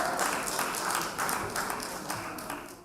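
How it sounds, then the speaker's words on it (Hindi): Audience applause at a felicitation ceremony for women Union Ministers as a guest is welcomed on stage, a steady wash of many hands clapping throughout, slightly fading toward the end. "जोरदार तालियों से स्वागत।"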